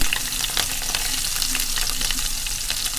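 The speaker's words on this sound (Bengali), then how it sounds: "এখন কাঁচামরিচ আর পেঁয়াজও দিয়ে দিচ্ছি" Green chilies and onion sputter in hot soybean oil, a loud, steady crackling fry with bright spattering throughout and no voices.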